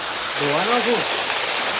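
Water pours steadily into a swimming pool with a constant broadband rush that fills the short clip, while a brief voice rises over it near the start.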